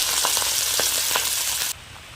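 Pieces of hilsa fish fry over low heat in hot oil, making a loud, close, steady sizzle that cuts off abruptly near the end to a quieter background hum.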